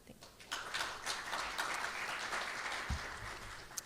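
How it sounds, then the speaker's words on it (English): Steady audience applause in a conference hall, a sustained wash of clapping at moderate level lasting several seconds with a faint thump near the end. "Please welcome a warm applause"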